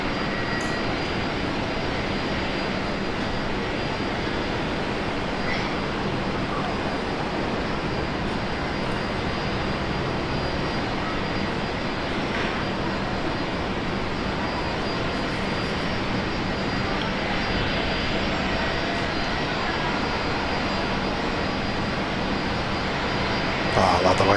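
A jet airliner takes off at Brisbane Airport, its engines a steady, broad roar that holds strong and close throughout with only slight swells, no voices over it.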